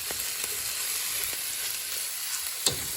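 Ingredients for papaitan sauté in a pan with a steady sizzle, marked by a few faint scrapes of stirring and one sharper clack near the end.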